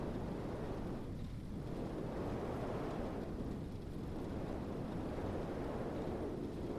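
A video game thunderstorm rolls in with rain and wind, a constant dense roar of heavy rain with low rumbling thunder surging and easing in slow waves, with no voices.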